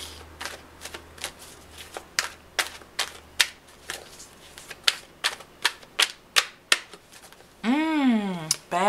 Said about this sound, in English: So I'm going to pull an oracle card for you.